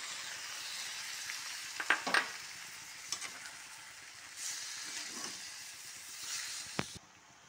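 Cauliflower and eggplant frying with spices hiss in a pan under a steady sizzle, broken by scattered scrapes and clinks of stirring before the sound cuts off abruptly.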